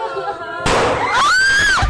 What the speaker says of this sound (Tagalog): Ilang saglit pa, umalingaw-ngaw na ang putok ng baril.